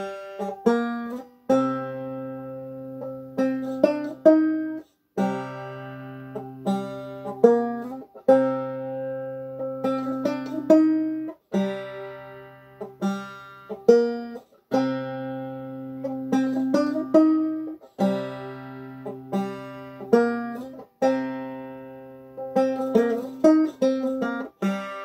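Banjo playing the Iroh tune from Avatar the Last Airbender, as a solo tutorial arrangement: steady plucked notes and chords in a bouncing melody, close and clear with no talking.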